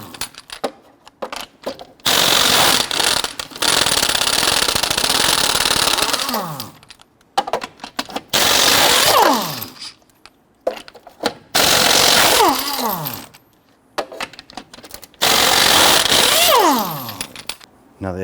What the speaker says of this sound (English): you want to go loosen and remove your lug nuts